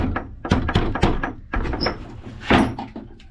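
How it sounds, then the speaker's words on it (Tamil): Someone bangs repeatedly on the door of a motor shed beside a paddy field, a rapid series of loud, hollow knocks and thumps. "எப்பயுமே மோட்ரு கொட்டாக்குள்ளே போகக்குள்ள நம்ம கதவை தட்டிட்டு தான் போகணும்"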